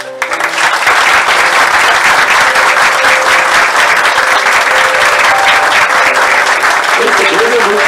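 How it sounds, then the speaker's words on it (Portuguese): Loud, sustained applause from a wedding crowd at an ecumenical ceremony, clapping for the couple's kiss, rising quickly at the start and holding dense and steady to the end. "para que todos nós possamos aplaudir esse beijo maravilhoso, que todo mundo vai aplaudir muito"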